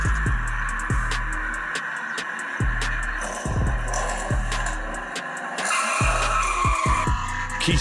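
Hot Wheels die-cast toy cars race down a track, a quick repeating run of rolling clatter and rattling bursts, loud and close with steady rumbling between, no voices.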